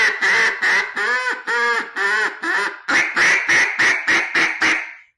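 A handheld duck call is blown close up, giving a series of loud, raspy quacks: five longer drawn notes, then a quicker run of about seven short choppy quacks tapering off at the end.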